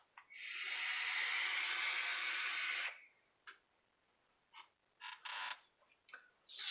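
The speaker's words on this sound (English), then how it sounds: "Airflow sounds like it's a little loud, but it's actually really smooth, and that's wide open." Airflow rushes through a Geekvape Zeus X RTA fired at 65 watts with the airflow wide open: one long, smooth, breathy draw of about three seconds, close and moderately loud, followed by several short puffs and breaths.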